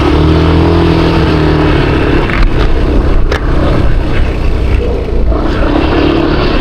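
A smoky car's engine revs loudly close by on a rainy road, a continuous rough roar that swells and eases without any talk.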